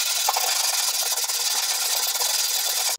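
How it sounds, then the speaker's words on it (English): Sanding block with 100 grit sandpaper worked over a Chevy GMT800 truck tailgate under repair: a continuous, close, bright rasping hiss with quick back-and-forth stroke rhythm, steady and loud throughout. "Let's go ahead and do a basic block sand here and see how well we do."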